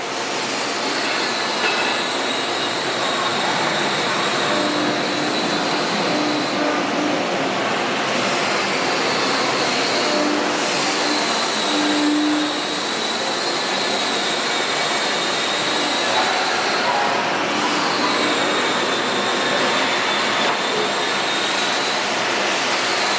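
CNC machines run in a converter manufacturing facility machining up channel plates, a loud, steady mechanical whir with repeated high, squealing whines rising and falling over it.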